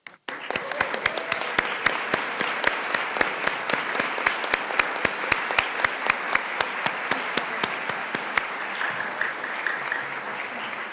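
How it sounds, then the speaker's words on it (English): An audience at the Delaware Women Hall of Fame induction ceremony breaks into sustained applause, a dense wash of many hands with crisp rhythmic claps standing out, steady and fairly loud throughout. "please stand so we can give you a round of applause?"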